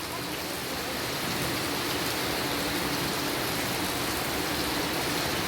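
Steady rain pouring down, a dense unbroken hiss of drops hitting surfaces, close and even throughout.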